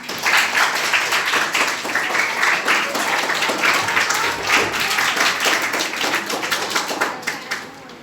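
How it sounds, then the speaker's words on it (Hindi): Students at a government senior secondary school in Gurugram clap together during a Sahaj Yoga introduction, with loud, sustained group applause that carries on for several seconds and thins out toward the end. "तालियां बजाओ।"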